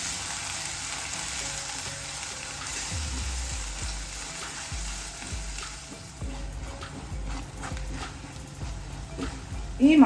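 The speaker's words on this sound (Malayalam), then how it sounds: "ഉള്ളിയുടെ പേസ്റ്റ് ഇല്ലേ, മസാല പേസ്റ്റ്, അതിനകത്ത് ഇട്ട് കൊടുക്കാം. നല്ലതുപോലെ മിക്സ് ചെയ്യുക." Onion masala paste fries in a pan while being stirred, a steady sizzle under scraping and soft knocks of a spoon, with a brief sharper clatter at the end.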